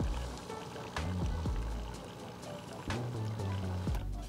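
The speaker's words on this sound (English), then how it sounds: "And this is pouring by seconds instead of knowing that this pour is 8 ounces." Hot water pours from the spout of a Breville Touch Impress espresso machine in a steady close stream, with clicks and a soft mechanical hum from the machine underneath.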